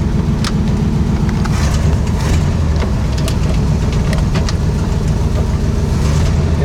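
A 1965 Ford Mustang barn find that sat for years, its engine running loud and close with a steady rough idle-like rumble and small throttle changes as it backs out.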